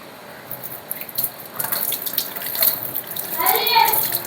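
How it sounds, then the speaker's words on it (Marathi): Water pours into a wash basin in short splashing bursts that grow fuller and louder toward the end. Voices talk faintly in the background, including a child. "त्याचं आता बेशनमध्ये पाणी ओतून बघतो"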